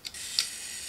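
A film rangefinder camera's self-timer runs after the shutter release, giving a brief close mechanical buzzing whir with a couple of small ticks, quiet and alone.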